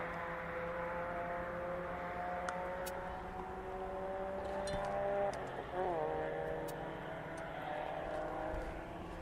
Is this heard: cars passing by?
yes